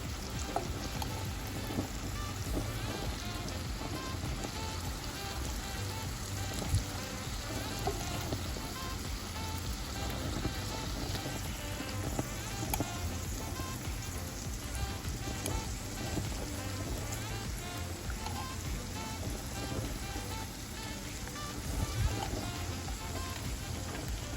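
Shrimp fry in a pan for a creamy garlic shrimp alfredo, giving a constant dense sizzle, loud and close, unbroken for the whole stretch with faint clicks of the shrimp being flipped and no talking.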